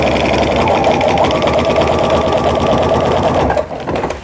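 A home sewing machine quilting with a walking foot on a jelly roll tree skirt, a loud steady rapid needle chatter running continuously before easing off near the end.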